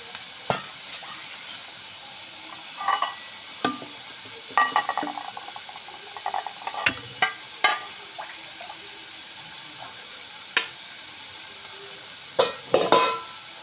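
Vegetable stir-fry cooked with coconut oil, with scattered scraping clinks of a spoon stirring in the pan over a soft, steady background hiss, the knocks irregular and clustered in short bursts.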